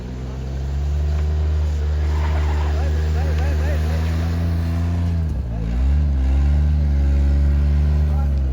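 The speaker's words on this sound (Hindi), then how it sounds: "स्लिप हो रही है वो गाड़ी बड़ी मुश्किल से आ रही है इधर" A car struggles and slips uphill on a snowy road in Murree during heavy snowfall. The engine drones loudly and steadily close by, with a brief dip and strained rise in pitch partway through.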